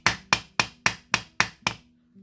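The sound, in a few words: jewelry hammer hitting and bouncing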